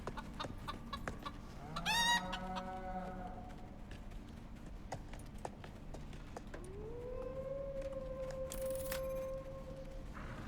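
A farming video game with chickens, a rooster, a bull and a buffalo. Synthetic clucking and crowing sounds repeat over a steady background of game music, and a rising siren-like tone comes in later.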